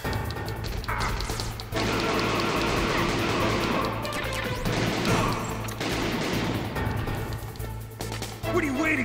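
Gunfire and crashing from the Metal Gear Solid video game: bursts of shots and impacts come loud and dense, with in-game voices talking over the action.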